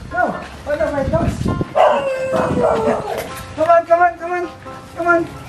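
Several dogs bark, yip and let out a rising howl close by, busy and overlapping beside a koi pond, with a person talking in between.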